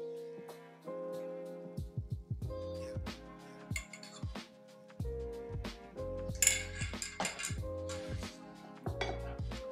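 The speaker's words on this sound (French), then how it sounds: "Et là, je vais mélanger." Financier batter of powders, egg whites and butter being mixed in a bowl, with close clinking and scraping of a utensil against the dish in uneven strokes, fairly quiet.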